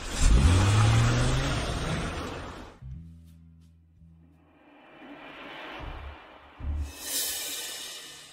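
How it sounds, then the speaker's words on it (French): A car engine runs while the car is being parked, first loud and close with a rising rev, then falling to a low idle that swells and fades a few times. "Je vais garer la voiture d'abord."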